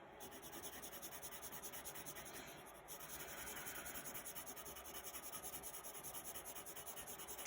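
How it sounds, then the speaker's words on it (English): A pencil drawing a bar graph line along a straight edge on paper, a continuous rhythmic scratching rasp with a brief pause partway, quiet and close with no talking. "I could draw the bar really quickly that way"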